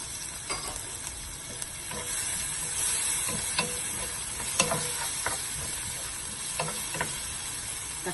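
Tomatoes sauté in a pan with fried onions and get stirred and mashed, giving a steady sizzling hiss punctuated by light spatula clicks and scrapes, close and moderately quiet, with no talking.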